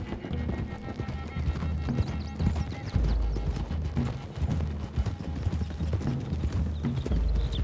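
Several horses galloping in the Red Dead Redemption video game, a dense steady drumming of hooves close by with a brief whinny, game music and chatter blending underneath.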